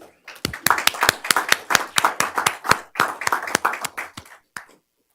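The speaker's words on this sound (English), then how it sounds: "One more round of applause." Sparse applause rings out at a school board meeting, a handful of people clapping crisply up close for several seconds before the claps thin out and stop.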